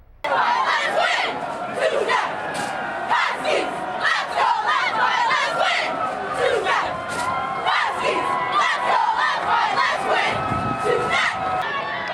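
A home crowd roars and shouts in support of the Huskies at a high school football playoff game, a loud, continuous wall of cheering and yelling that never lets up.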